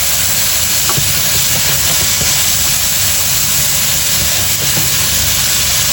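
Chicken strips sizzle and grill in a hot pan, a dense, steady hiss with scattered small pops filling the whole stretch at close range.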